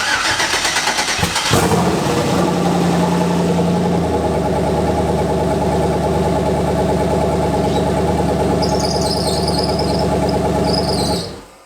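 A twin turbo Chevrolet Malibu engine cranks and catches on a cold start, then settles into a loud, steady idle with a high squealing whine over the rumble before cutting off abruptly.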